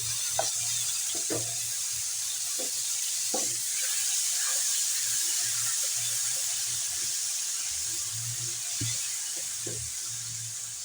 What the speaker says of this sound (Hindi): अब हम अदरक लहसुन भून लेंगे 2 टीस्पून।